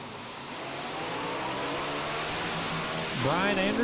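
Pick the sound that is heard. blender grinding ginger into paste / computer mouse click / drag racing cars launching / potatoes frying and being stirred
drag racing cars launching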